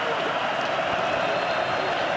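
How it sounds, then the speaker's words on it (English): Stadium crowd roars on third and seven at a UFL football game, Michigan Panthers at St. Louis Battlehawks in a dome, a steady distant wash of noise. "Home dome advantage with the roar of a crowd on 3rd and 7"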